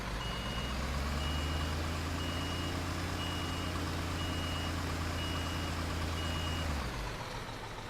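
A truck in Construction Simulator 2015 backs up with its reversing alarm beeping in a steady, evenly spaced series over a loud droning engine that cuts off near the end, with no one speaking.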